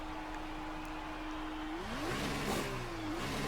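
An F2 car in the F1 2019 racing game pulls away from a pit stop, its engine note rising steadily in pitch as it accelerates, loud and close over a constant background roar.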